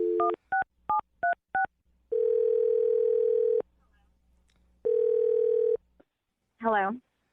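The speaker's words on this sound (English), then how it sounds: "I'm going to dial her phone number right now." Several short two-tone keypad beeps, then a steady dial tone that stops and returns, ending with a brief warbling electronic sound. No talking.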